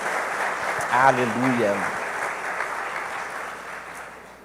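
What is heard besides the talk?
audience applause for Jesus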